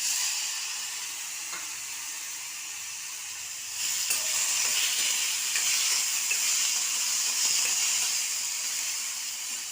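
Tomatoes frying in a pan give off a steady, close hiss and sizzle that grows louder and busier partway through, with faint clinks underneath.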